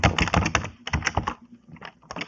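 Keys clatter in quick bursts on a computer keyboard while a Linux command is entered, with a short pause and then a few final keystrokes, close and crisp.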